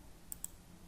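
Two quick, faint mouse clicks in close succession while a spreadsheet cell is selected during formula entry, with a quiet background.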